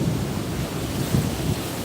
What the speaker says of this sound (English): It's just too windy still.